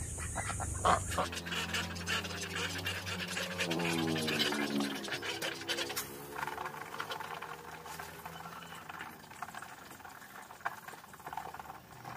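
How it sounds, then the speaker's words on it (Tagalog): A flock of hungry backyard ducks quacks in rapid overlapping calls close by, mixed with pattering and scratching, the quacking swelling in the middle then thinning to scattered noises. "Ayan, mga gutom yata ang ating mga pato."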